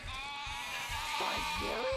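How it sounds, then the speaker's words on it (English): Sheep bleating in the video game Overlord: one drawn-out, wavering bleat rises above a steady game ambience, with a thinner second call starting at the end. "I hear the bleating of lesser creatures, my lord."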